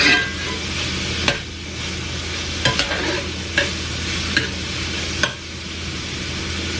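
Sausage fries in a pan with a steady close sizzle, broken by several sharp clicks and scrapes of a utensil against the pan at irregular intervals, no talking.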